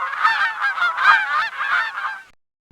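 Geese honking in the Microsoft Explorapedia nature video game, a loud, close burst of overlapping nasal honks for about two seconds, then silence.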